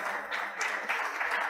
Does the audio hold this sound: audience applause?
yes